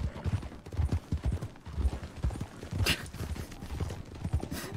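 Horse hooves clip-clop at a steady trotting rhythm in a cowboy video game, fairly quiet and close, with a brief sharp noise partway through.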